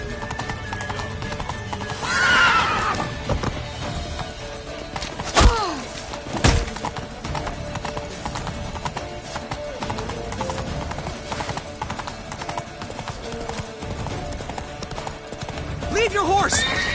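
Horse hooves clip-clopping at a steady gallop in The Witcher 3, with a couple of loud neighs and whinnies and sharp impact thuds over continuous game sound, while a voice talks throughout.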